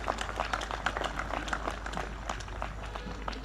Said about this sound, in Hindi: सभी की प्रतिभाओं का एक बार मैं चाहूंगा जोरदार तालियां बजा दीजिए।